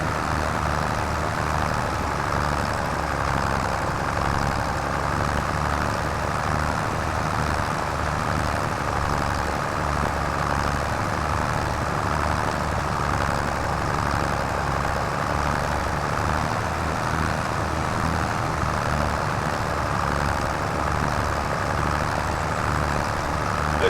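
An old, low-powered tractor in a farming video game chugs at a steady idle, a continuous low, even engine drone with no speech over it.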